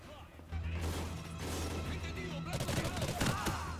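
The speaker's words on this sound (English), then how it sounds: "Shooting my own people." Gunfire rattles through a Call of Duty: Ghosts campaign mission set in Sin City, with dense bursts of shots and crashing impacts over a steady low drone, loud and close for most of the stretch.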